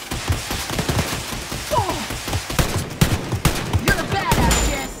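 Gunfire crackles throughout a Wolfenstein: Youngblood firefight, with dense bursts and single sharp shots at close to mid range, and a voice shouting over the action.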